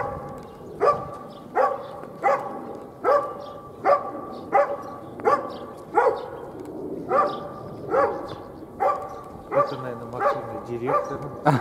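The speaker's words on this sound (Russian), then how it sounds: "Ой, собачка ругается." A dog barks loudly and steadily, about one sharp bark per second, close by and with no voices.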